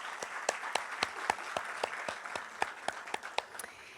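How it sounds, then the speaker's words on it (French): A small audience applauds at a memorial tribute ceremony for an artist in Rouyn-Noranda, with fairly quiet, sparse, distinct claps in a loose, uneven rhythm and no voices. "vous pouvez applaudir certainement"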